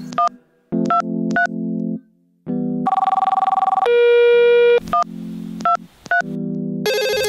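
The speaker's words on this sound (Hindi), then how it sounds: "हाँ हाँ ले फोन मिला दूंगा" A telephone call is dialed, with a series of short beeping tones and steady electronic ringback and signal tones, loud and close with no speech.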